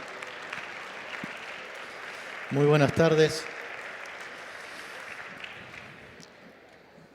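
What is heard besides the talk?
audience applause welcoming a speaker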